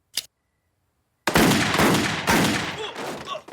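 Homer Simpson fires a gun in a cartoon scene: a quick sharp report, a short silence, then a loud burst of rapid gunfire that fades out.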